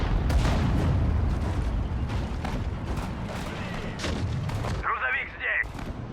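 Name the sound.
artillery fire in video game Sudden Strike 4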